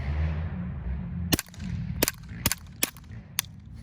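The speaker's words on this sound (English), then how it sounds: "let's just see what it does in this Ruger Charger" Five quiet, sharp pops from a suppressed Ruger Charger firing CCI Clean 22 subsonic ammunition through a Q El Camino suppressor, irregularly spaced over a low outdoor background rumble.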